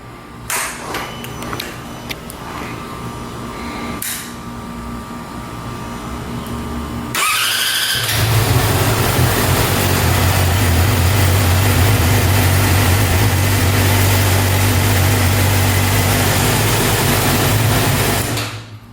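A motorcycle engine cranks and catches after a few seconds of quieter rumbling, then settles into a loud, steady idle that runs until the end.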